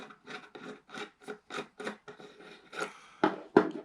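Parts of a home-brew black powder pistol are unscrewed by hand, making a close run of short, rhythmic scraping strokes that end with a couple of firmer clicks.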